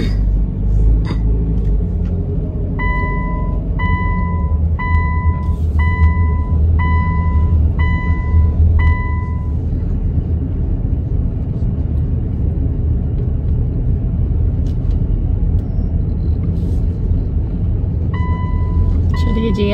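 A car drives along a road on the way to school, with a steady low rumble throughout and a repeated series of short electronic beeps, while people talk inside the vehicle.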